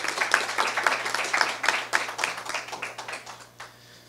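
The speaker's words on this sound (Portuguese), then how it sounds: "Uma salva de palmas, por favor, para Isis." Audience applause at a televised election-candidate interview panel in Brazil, many hands clapping in a dense, steady patter that holds for about three seconds and then thins out and fades.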